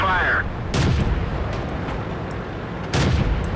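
Tank cannon shots in the World of Tanks video game, two heavy booming blasts about two seconds apart, each with a short rumbling decay, someone speaking between them.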